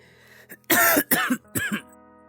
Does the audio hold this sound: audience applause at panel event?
no